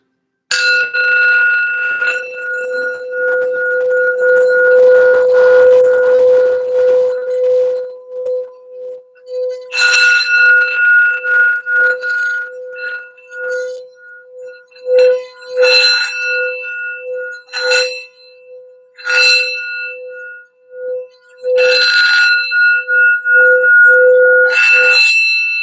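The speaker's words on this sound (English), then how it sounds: "Do a quick sound bath for some general healing and grounding for the reading." Bells from a sound bath ring out repeatedly with long sustained tones, a steady resonant hum underneath and bright struck chimes recurring every few seconds, clear and close.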